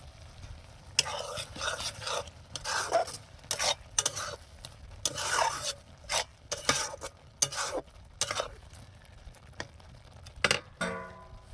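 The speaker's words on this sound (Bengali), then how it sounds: "এটা একটু খন্তি দিয়ে নাড়িয়ে দেবো মশলাটা" A spatula scrapes and stirs a spice mixture in a pan in repeated bursts of rough scraping and light clinks, close and distinct, with a soft sizzle between strokes.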